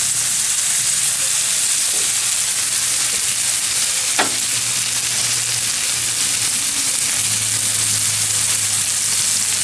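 Sausage and potatoes sizzle and fry steadily in a skillet, a constant close hiss of hot fat with a faint low hum underneath and one brief sharp pop.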